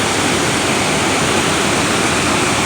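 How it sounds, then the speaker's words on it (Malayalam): Waterfall on a river fed by Peechi dam at Orappankettu, a steady loud broadband rush of falling water filling the whole clip without pause, with no voices. "ഇവിടെ നല്ലൊരു വെള്ളച്ചാട്ടമാണ്."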